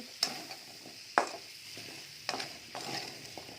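Purple potatoes frying in a pan of spiced oil, with a few sharp scraping stirs over a soft, steady sizzle close by.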